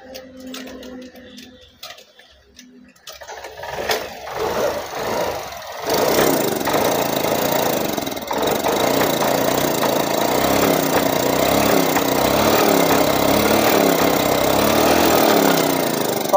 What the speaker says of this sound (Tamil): இப்போ நம்ம கிக்கர் போடுறோம்.